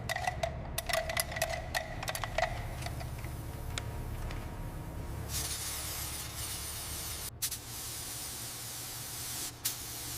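A spray gun lays down a guide coat of paint in a steady, quiet hiss, with a few sharp clicks and ticks early on and a couple of brief breaks in the spray.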